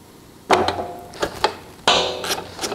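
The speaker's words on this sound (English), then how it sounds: "We'll use our ratchet with our 13 millimeter socket." A ratchet fitted with a 13 mm socket loosens the wheel bolt on a Toro walk-behind lawn mower, producing close metallic clicks and knocks in two short bursts.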